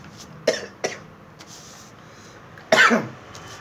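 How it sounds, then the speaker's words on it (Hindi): Several coughs: two quick ones close together, then a pause and a longer, harsher cough with a throaty rasp, near and loud. "खांसी आ गई"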